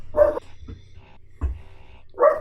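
A dog barks in a few sharp, separate woofs, two loud ones framing quieter yaps in between, fairly close and with no talk.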